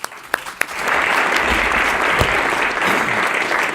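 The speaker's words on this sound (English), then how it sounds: "One round of applause." An audience at a cycling talk breaks into applause after a couple of sharp early claps, swelling into dense, steady clapping from a roomful of people at fairly close range.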